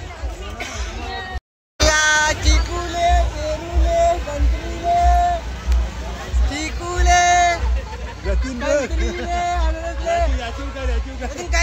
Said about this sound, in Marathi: हे साईडला जास्ती गर्दी आहे